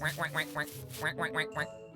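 A VR video game duck quacks in a fast, evenly spaced string of about eight nasal calls, loud and close, with one brief pause midway.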